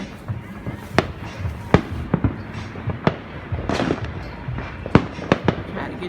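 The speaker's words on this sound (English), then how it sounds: "Try to get y'all to see the downtown fireworks" Downtown Fourth of July fireworks in Lexington, Kentucky crack and boom at a distance in an irregular string of sharp bursts, with a voice talking quietly between the blasts.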